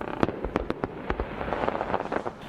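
Fireworks marking Victory Day in Kubinka, a town near Moscow, burst in a quick run of close, sharp pops. A dense crackling wash continues underneath, and no one speaks.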